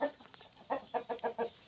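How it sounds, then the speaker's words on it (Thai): Thai fighting rooster calling in a string of five short, rising clucks after a quieter stretch, close and fairly loud with no talk over it. "ไก่ตี้เจ้าพายุครับ"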